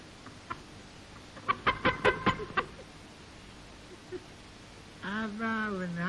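Rooster in a 1938 Georgian film clucking in a quick run of six or seven loud clucks near the start, then a lone cluck, before a voice begins talking at the end.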